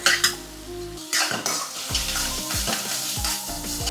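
Paste hits a hot pan for a cooked tiffin dish with spring onion, sizzling steadily while a spatula scrapes and stirs in repeated metallic strokes, close and loud.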